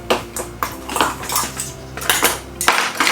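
A metal utensil clinks and scrapes rhythmically against a bowl while stirring a spice rub mixture for BBQ chicken wings, breaking up clumps. The taps are close and repeated, with no talking.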